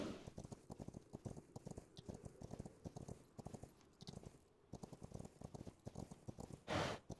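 Horse hooves clip-clop steadily in the video game Rust, a brisk close rhythmic patter of hoofbeats running throughout, with a brief burst of noise near the end.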